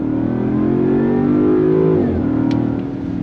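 A 2024 Land Rover Defender 110 Carpathian Edition V8 revs up under throttle with a steady, loud engine drone that rises in pitch, then dips briefly at a paddle-shifted gear change around two seconds before pulling on.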